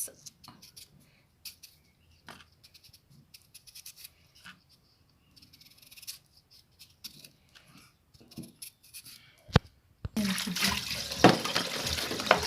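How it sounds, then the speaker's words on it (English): Potatoes washed under a running tap, preceded by scattered soft kitchen clicks and handling, then a loud, steady rush of water that takes over for the final seconds. "I'm washing my potatoes."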